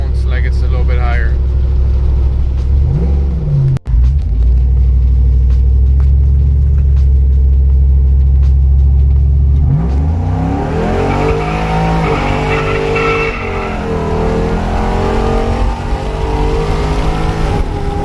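A 5.3 V8 car engine with a cam and 4.56 gears rumbles deep and loud, idling low before climbing through revs with a rising, wavering roar under a voice.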